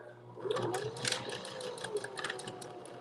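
A sewing machine runs a short backstitch on fabric for a lanyard, giving a close, rapid mechanical whir with a fast stitching rattle over about three seconds.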